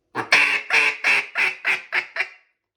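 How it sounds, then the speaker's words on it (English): A duck call blown as a basic hail call: about eight loud, evenly spaced quacks that step down in strength and pitch across a couple of seconds, heard alone and close. "that's your basic hail call"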